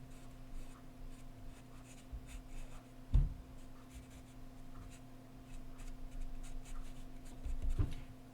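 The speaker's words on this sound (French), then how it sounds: "on va le mettre avec le plume feutre." A felt-tip pen drawing small lines on paper for a rabbit picture gives a soft, steady scratching close by. Two dull knocks land midway and near the end over faint background hum.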